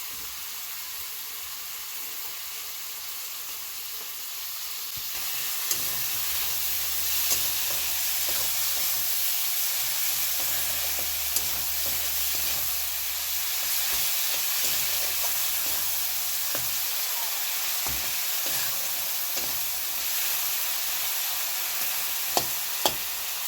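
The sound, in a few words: tomatoes frying in a pan for potato curry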